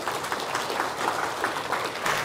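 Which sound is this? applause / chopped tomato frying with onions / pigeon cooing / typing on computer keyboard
applause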